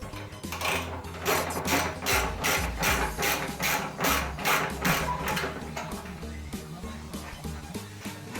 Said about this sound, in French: On met une clé pour le contre-écrou.